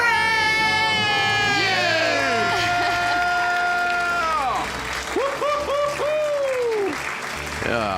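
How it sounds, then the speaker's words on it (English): A studio audience on a live radio call-in show cheers and screams in a loud, sustained roar, with shrill whoops and rising and falling shouts piling on top of one another. "Let's hear a debt-free scream."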